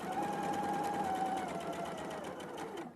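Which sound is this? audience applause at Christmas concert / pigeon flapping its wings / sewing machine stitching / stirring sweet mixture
sewing machine stitching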